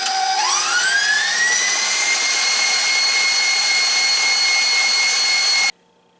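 A stand mixer whips Swiss meringue buttercream at full speed: a loud, steady motor whine that climbs in pitch over the first second, holds evenly, then cuts off abruptly near the end.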